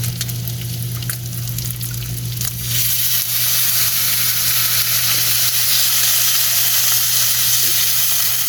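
Loud, steady sizzling and hissing of water poured into a hot pan for ramen noodles, with a sharp burst of steam partway through that keeps roaring on.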